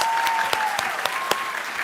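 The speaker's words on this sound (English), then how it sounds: "So let's have one more round of applause" Steady applause from the audience at a state history contest awards ceremony, honoring the senior division winners, with distinct individual claps popping through a dense, even wash of clapping.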